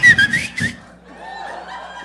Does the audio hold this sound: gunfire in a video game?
no